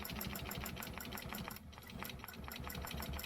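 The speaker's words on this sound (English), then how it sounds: "So I'm going to stitch up." Sewing machine stitching a quilt stencil line, its needle running in a fast, steady rhythmic chatter throughout, with one brief pause midway before the stitching resumes.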